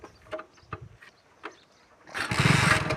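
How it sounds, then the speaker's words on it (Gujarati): A few clicks and knocks come first, then a motorcycle engine cranks and fires, settling into a loud, close, rumbling idle. "પપ્પાને ચાલુ કરવા દે બાઈક"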